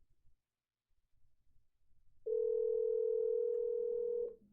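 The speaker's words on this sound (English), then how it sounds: "So it's just going to keep making the ringing sound." A SIP phone plays a ringing tone: after faint low shuffling, one steady, clean tone holds for about two seconds at even loudness, then cuts off.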